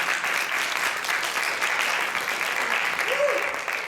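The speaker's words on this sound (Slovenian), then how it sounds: "En lep aplavz." Audience applause at a solo and duet dance competition, a steady dense clapping from a crowd that carries on throughout without a break.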